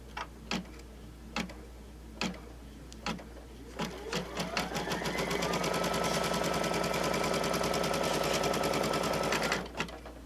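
An embroidery machine sews a zipper onto a pouch in the hoop, starting after a few sharp clicks into a fast, even mechanical stitching chatter that runs steadily and close before stopping.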